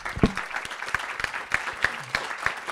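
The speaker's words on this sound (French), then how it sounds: "on vous applaudit là aussi" Audience clapping at a health equity round table during a patient forum, fairly quiet and sparse, with separate distinct claps standing out in an uneven rhythm.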